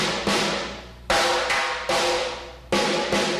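Three separate drum strikes on a single drum, each a sharp attack with a short decaying ring: a fat centre hit, a rim hit, then a rim shot striking head and rim together. Evenly spaced, close and clear, no voices.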